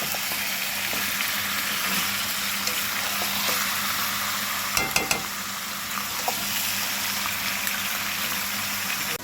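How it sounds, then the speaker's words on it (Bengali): Meat fries in a pan with a steady sizzle and crackle, with a short clatter of stirring near the middle and occasional spattering pops, no voices. "এইভাবে মাংসটা বেশ কিছুক্ষণ ভেজে নিতে হবে"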